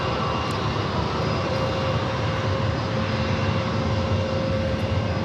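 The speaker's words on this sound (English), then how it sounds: "Next arrival is Southwest Airlines flight 2053, coming from SFO, 737-800" A Southwest Airlines Boeing 737-800 arrives at San Diego from SFO. Its jet engine sound is steady and loud, with a faint whining tone running through the continuous roar.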